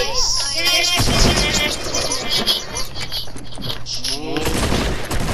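Video game gunfire, with dense, rapid volleys of shots and booms layered over game sounds, loud and continuous, while a person talks over it.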